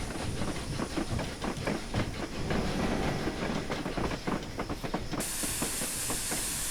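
The Flying Scotsman steam locomotive, on a London to Brighton run, vents a loud, continuous hiss of steam close by, with rail clatter and rhythmic knocks underneath; the hiss grows brighter and stronger near the end.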